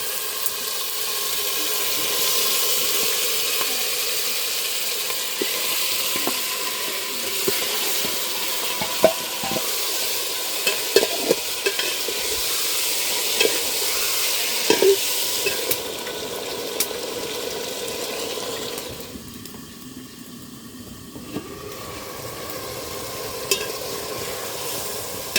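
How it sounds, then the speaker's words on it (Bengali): Chicken and cooked-down spice masala fry in oil in a pot for a home-style chicken biryani, producing a continuous close sizzle broken by frequent stirring scrapes and clinks, with one short quieter patch partway through. "যে মশলা দেখুন কষানো হয়ে গেছে, তেল ছেড়ে দিয়েছে, এবার মাঝখানে মাংস দিয়ে দেবো।"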